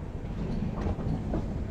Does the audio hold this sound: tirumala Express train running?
yes